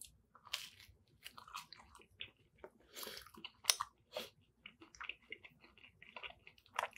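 Close-up bites and chewing of takeout pizza, moist crunchy mouth sounds and crust crackles in an irregular rhythm, quiet and intimate with no talking.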